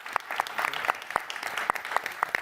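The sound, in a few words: audience applause after panel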